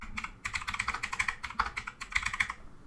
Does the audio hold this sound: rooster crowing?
no